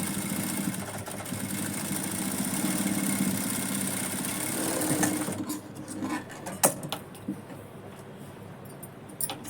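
A sewing machine runs in a steady, close whir as it stitches a second seam along a blouse lining, then stops, leaving a few faint clicks and handling sounds.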